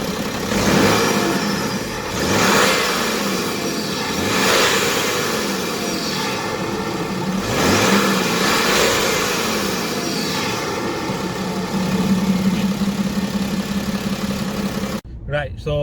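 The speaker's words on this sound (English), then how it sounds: "Now I'll turn it on and let's see what it sounds like." A BMW E60 535d diesel with DPF, EGR and swirl flap deletes, started and left running: a loud engine note swelling in repeated revs over a steady idle, with talk mixed in before it cuts off abruptly near the end.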